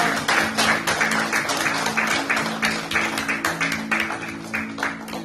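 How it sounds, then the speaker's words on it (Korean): A congregation applauds at a Thursday worship-and-praise service in a church in Brisbane, Australia: dense, sustained clapping with a steady pulse and a low sustained tone beneath it, filling the whole stretch. "우리 하나님께 큰 영광의 박수 올려드립니다"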